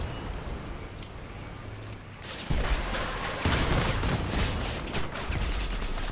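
Vehicle-mounted weapons in Crossout fire in rough bursts over a rumbling engine, with a sharp heavier blast midway and dense crackling volleys afterward, loud and close.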